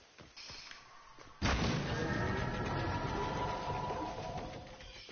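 Gunfire in a video game about trying to fly on a rocket: a sharp loud report, then a sustained roar of shooting and explosions that stays dense and loud for several seconds before easing slightly.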